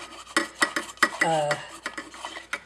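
A pot scraper works leftover rice off the inside of a cooking pot, giving a series of close, uneven scraping and clinking strokes with short pauses between them and no talk.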